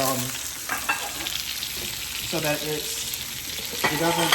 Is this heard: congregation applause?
no